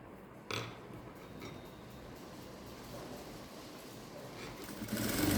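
A sewing machine stitches a 1/4-inch seam through blouse sleeve, body and lining fabric, producing a continuous close motor hum with a rapid needle chatter. A soft knock is heard near the start, and the sound grows louder toward the end.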